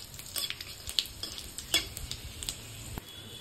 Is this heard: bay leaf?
yes